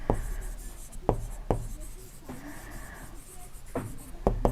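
A pen scratches across paper while a maths table with x and y columns is ruled and filled in, steady close scratching broken by several sharp taps and strokes throughout.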